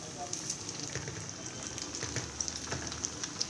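Curd kebabs shallow frying in oil in a pan give a quiet, steady sizzle with scattered small pops and crackles.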